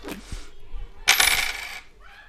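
Coins tossed and dropping onto a hard surface: a brief clink early on, then a loud rattling clatter as they land and settle, with no voices.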